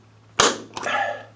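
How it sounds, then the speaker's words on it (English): A center punch is struck to mark a hole in a patio sliding door frame for a loop lock, giving two sharp, close metallic taps less than half a second apart. "Alright, got it lined up and centered and punch."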